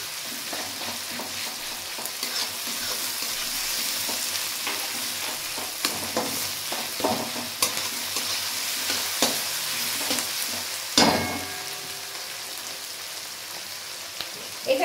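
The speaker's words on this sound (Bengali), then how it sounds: "পেঁয়াজ আর রসুনটা আমি ভালো করে এবার ভেজে নেব।" Chopped onion and garlic paste fry in hot oil in a pan for a mutton curry, giving a steady close sizzle broken by scraping stirs and a louder clatter of the spoon against the pan.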